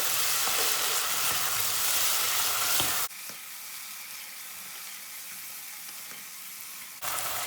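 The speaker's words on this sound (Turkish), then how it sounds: "İçinde sadece yağ kalana kadar kavurma işlemine devam edeceğiz." Meat frying in oil in a pan while being stirred, until only the fat remains; a loud, dense sizzle fills the first three seconds, drops to a softer steady crackle, then swells again at the end.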